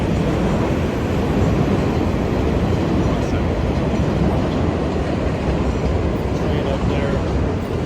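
A train rolls past nearby, a loud, steady broadband rumble with rail clatter filling the whole stretch, and a voice may be faintly present beneath it.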